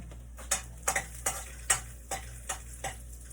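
Short sizzling bursts and stirring scrapes in a pan, frying before chicken is added for tinola, about eight crackling pulses at irregular intervals over a low steady hum, close and fairly quiet.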